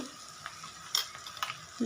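Onion frying in a pan while it is stirred, heard as a quiet sizzle with a few brief scraping clinks from the spoon.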